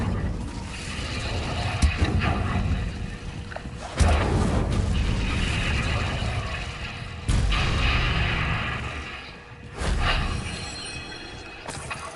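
Incendio fire spells cast again and again in a PS5 video game, each one a loud whooshing burst that flares and fades, several in a row over a low rumbling game background.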